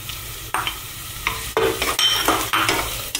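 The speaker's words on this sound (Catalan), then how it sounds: "Ja tenim l'oli calent, per tant, anem a abocar l'all i la ceba, que estan picats" Chopped garlic and onion hit hot oil, setting off bursts of sizzling mixed with scraping stir strokes in short uneven surges, close and alone without voices.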